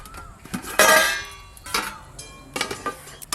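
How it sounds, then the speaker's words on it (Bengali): A metal pot lid lifts off a hilsa fish and brinjal dish cooking on a clay stove, with a loud ringing clang followed by a few lighter metallic clinks and taps close by. "এবার ঢাকনাটা খুলে দেখি কি হয়ে আছে।"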